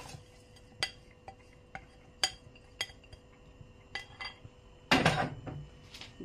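Peanuts and walnuts tipped into a pan of melted butter, light clinks and taps of a utensil against metal followed by a denser rattling pour, close but soft.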